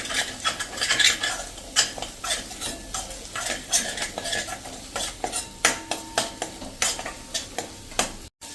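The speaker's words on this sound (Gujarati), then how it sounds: "મિક્સ કરી અને 1-2 મિનિટ આપણે આ રીતે ચલાવી લેશું" Spices for a brinjal sabzi are stirred in a pan, a spoon scraping and clinking in a quick, steady rhythm over a light sizzle, close and fairly loud throughout.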